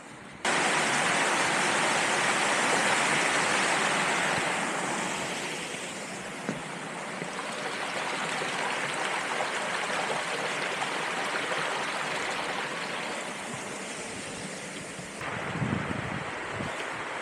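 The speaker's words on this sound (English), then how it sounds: "I think it must be the River Derwent." The River Derwent near Hathersage rushes past as a broad, steady wash of flowing water mixed with wind noise, loud and continuous and dropping slightly in level partway through, with no talking.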